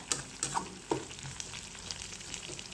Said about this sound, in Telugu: ఇవి మంచిగా వేగాలి నూనెలో.